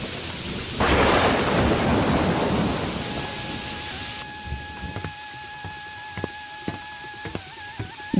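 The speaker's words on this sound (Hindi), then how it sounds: "देख रहे हैं ना कितनी बारिश हो रही है।" Heavy rain pours over a village as a loud thunderclap bursts in early, then the downpour fades into a steady hiss with faint sharp clicks and a thin sustained tone near the end.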